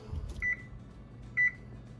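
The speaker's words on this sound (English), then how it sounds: "we're just gonna set the timer on 20 minutes" A kitchen oven timer gives two short electronic beeps about a second apart as it is set, clear and close over a quiet room.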